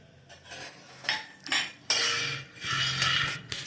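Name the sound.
peanuts being roasted in a pan on the stove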